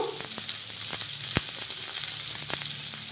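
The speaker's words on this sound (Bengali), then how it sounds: "কিছু পেঁয়াজ কুচি দিয়ে আমি নেড়ে চেড়েটা ভেজে নেব" Chopped onions with turmeric frying in a pan, a steady, soft hiss of oil with a few light clicks and scrapes of stirring, close and unaccompanied by voices.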